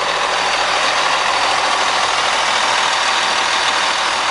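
Cummins 450 diesel engine in a 1999 Newmar London Aire motorhome idling, a steady close, loud rumble with no pause and no talk.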